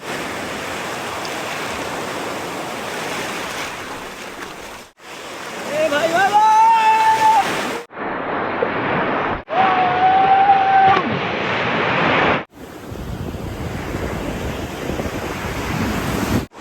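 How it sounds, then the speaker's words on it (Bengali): Sea waves wash onto a beach in Odisha, a steady broad roar of surf broken into several segments, with brief whistling tones over the wash at times. "এই হচ্ছে সমুদ্র, সেই ঢেউ সমুদ্রের।"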